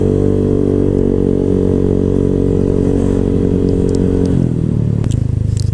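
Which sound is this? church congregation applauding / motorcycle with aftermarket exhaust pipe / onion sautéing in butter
motorcycle with aftermarket exhaust pipe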